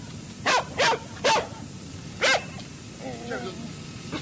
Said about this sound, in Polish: To pies nie, pies podejdzie powoli.